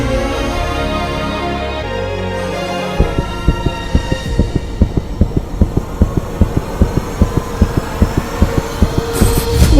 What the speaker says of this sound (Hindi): ये किसी इंसान के दिल की धड़कन नहीं है, मानो कि जैसे किसी मशीन से ऑपरेट हो रहा है।